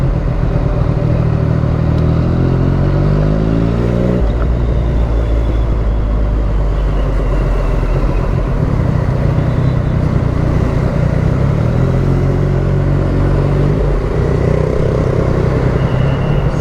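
A Yamaha MT-09 motorcycle rides through heavy road traffic, its engine loud and close, revving and shifting in uneven surges while other vehicles rumble around it.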